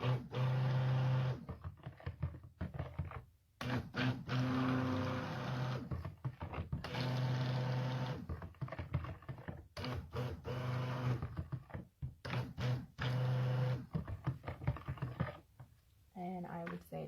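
A stick blender whirs in short bursts through cold process soap batter, loud motor pulses separated by brief pauses and stirring, with a person talking between the runs.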